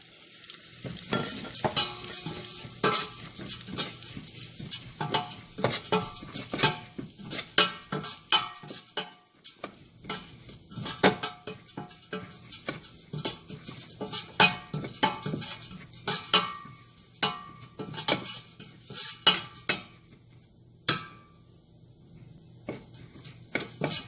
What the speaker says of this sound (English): Just to fry it for 1 minute.